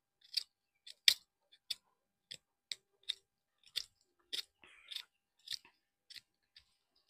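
A vegetable being peeled by hand with a knife for a home recipe, giving a series of short, crisp scraping strokes in an irregular rhythm, close and fairly quiet, with no voices.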